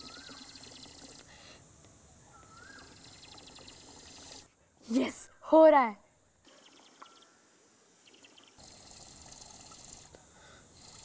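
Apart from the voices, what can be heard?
water being emptied from glass through a straw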